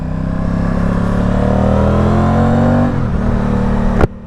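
An Aprilia Tuono 660 motorcycle engine holds a loud, steady rev close by, its pitch climbing slowly before dipping near the end and cutting off abruptly.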